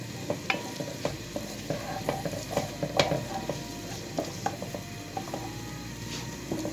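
Spring onions fry in oil in a cast-iron pot with a steady crackling sizzle, broken by frequent sharp clicks and scrapes from a stirring utensil, close and moderately loud.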